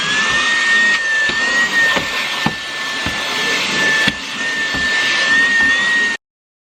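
A Hoover vacuum cleaner runs loud and close with a steady high whine and a broad roar. There are a few knocks and bumps against surfaces, and the motor cuts off abruptly at the end.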